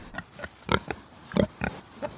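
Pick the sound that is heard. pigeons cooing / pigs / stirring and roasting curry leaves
pigs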